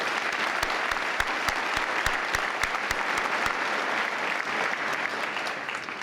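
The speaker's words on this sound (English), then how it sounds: "And one more round of applause for Becky Voitko" A large commencement crowd applauds an alumni service award honoree, a thick wash of clapping with a few sharp, evenly spaced louder claps standing out early on and the ovation continuing steadily throughout.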